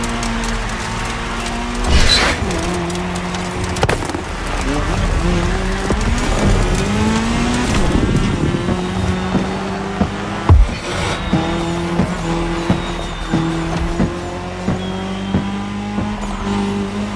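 Race cars in The Crew Motorfest, a cross-terrain race moving onto tarmac, roaring engines with repeated tire squeals and skids, rising and falling pitch, loud and close throughout.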